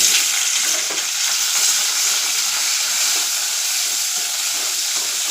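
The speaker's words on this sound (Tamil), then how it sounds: "எண்ணெய் காஞ்சிருச்சு. இப்போ வெண்டைக்காய் போட்டு வதக்கிடலாம்." Okra, or ladies' finger, sautéing in hot oil, a loud, steady, close hiss of frying that holds evenly throughout with no pauses and no talking.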